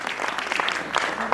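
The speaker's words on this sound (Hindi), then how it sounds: "एक बार मेरे सम्मान में आप लोग जोरदार तालियां बजा" Audience applause at a Hindi comic poetry recital (kavi sammelan), a short dense burst of clapping from a seated crowd, fairly close and steady.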